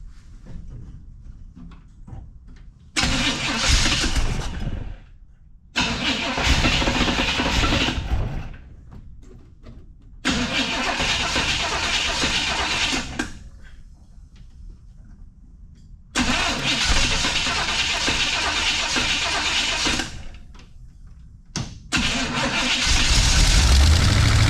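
A 1937 Ford engine cranking repeatedly in several loud bursts separated by silent pauses, each attempt catching and running briefly, close up, with the final attempt continuing to run.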